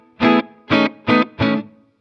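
An electric guitar runs through a BIAS Mini amp on a clean American Clean setting with reverb, four separate strummed chords ringing briefly in an even rhythm, loud and close.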